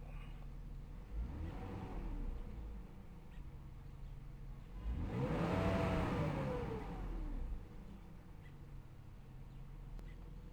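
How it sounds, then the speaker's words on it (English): A 2001 BMW X5 3.0i (E53) engine with a bad alternator revs up twice, the second rev louder and longer, each climbing and then falling back to a quiet idle. "I want to rev it up"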